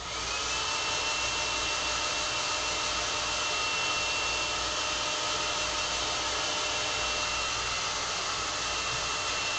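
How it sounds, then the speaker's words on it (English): A blow dryer blows in a steady, even whoosh of air while drying a watercolor painting, holding at constant loudness throughout without talk. "Hit it real quick with a blow dryer."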